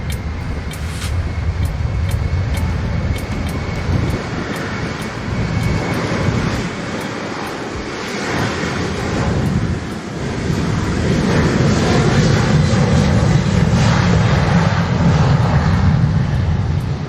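An airliner taking off from runway 07 at Montego Bay airport in Jamaica, a loud, sustained broadband jet roar that holds steady throughout, with wind rumble and no talk.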